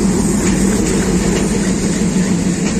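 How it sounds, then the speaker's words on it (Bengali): A Dhaka-bound train nears a platform on the way to Kamalapur railway station: a steady, loud, low rumble and hum of rolling rail cars and engine that fills the whole stretch without a break, with no talking. "দেখছো এই যে ঢাকার ট্রেন চলে আসছে"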